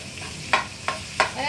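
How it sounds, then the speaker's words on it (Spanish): Minced meat sizzles softly in a pan while a utensil scrapes through it three times in a quick, even rhythm, close and fairly quiet. "voy a echar la carne picada"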